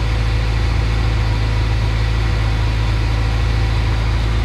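A car engine idles steadily, heard up close in the engine bay, a loud constant low hum and drone without change in pitch or rhythm.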